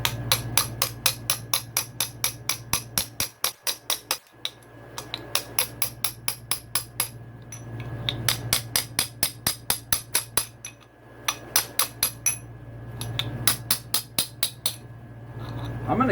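A hammer delivers quick, light, evenly spaced taps to drive a stuck wrist pin out of a KTM 250SX piston, sharp metallic strikes in several bursts with brief pauses between, close and clear over a low hum.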